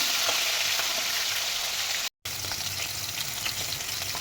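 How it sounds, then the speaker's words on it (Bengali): Bhetki fish frying in hot oil, a dense continuous sizzle heard up close, broken once by a short moment of silence. "তিনটে ভাজা হোক আর তিনটে পরে ভাজছি"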